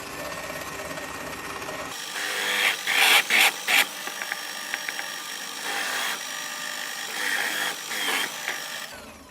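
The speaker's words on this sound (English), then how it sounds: "I slightly countersink it with a bigger drill bit" Drill bit countersinking a hole in knife steel for a friction folding knife: a loud, steady motor whir with grinding, rasping bursts as the bit bites, stopping and starting a few times.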